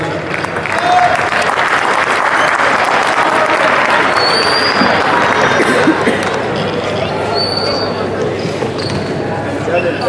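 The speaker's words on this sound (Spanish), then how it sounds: "más fuerte el aplauso porque se lo merece" Sustained loud applause and crowd noise filling an indoor basketball stadium at its reopening ceremony, dense clapping with hubbub running the whole time and occasional squeaks.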